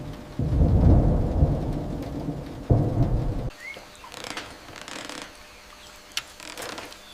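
Heavy rain roars over a jungle camp where a wrecked Boeing airliner sits, with loud rumbling thunder bursts in the first half, then quieter patter and scattered drip-like knocks as the storm eases.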